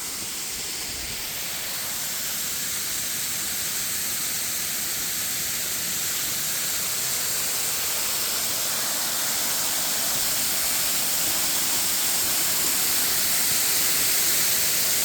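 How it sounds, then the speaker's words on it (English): A waterfall roars as a dense, steady hiss of falling water, loud and close, continuing unbroken and growing slightly louder throughout, with no voices. "It's going to be a little loud. The water is falling"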